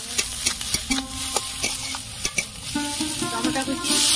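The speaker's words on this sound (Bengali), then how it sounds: "রসুন বাটা দিয়ে দেবো।" Garlic paste hits fried onions in a pan while cooking Bengali amudi fish tel jhal, making a steady close sizzle broken by regular spoon-scraping stirs and knocks against the pan.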